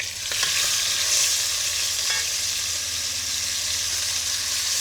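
Flipped pork chops sizzle in a pan for brown stew pork chops, a dense steady frying hiss with a couple of faint scrapes early on, close and continuous without any talking.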